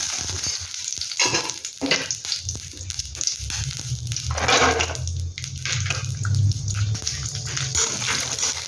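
Raisins fry in a kadai as prawn biryani is prepared, with a continuous close sizzle broken by bursts of crackling and spatula scrapes as they are stirred.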